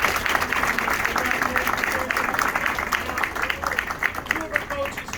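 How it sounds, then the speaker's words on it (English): An audience applauds at a high school athlete's National Letter of Intent signing ceremony, a steady wash of clapping at moderate distance that continues for several seconds. "A round of applause here."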